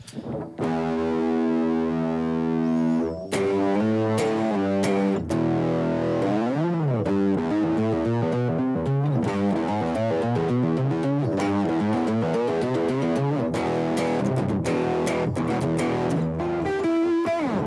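A heavily distorted, fuzzy electric guitar played through a fuzz pedal plays sustained notes and bends, thick and saturated, loud and continuous with no voices.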